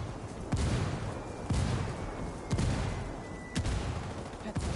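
Gunfire in the video game Ghost War: a few sharp shots land roughly once a second over a steady rumble of battle ambience, fairly close and loud, with no one speaking.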